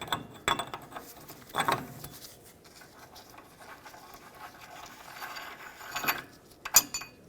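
Socket ratchet spinning off the rear outer wheel hub nut on a 2007-2014 Chevrolet Silverado 2500 HD, a few quick clicking bursts spread apart in a quiet garage, fairly faint.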